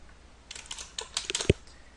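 Keyboard shortcut keys pressed on a computer keyboard during photo retouching: a quick run of crisp, close clicks and taps over about a second, ending in one firmer keystroke.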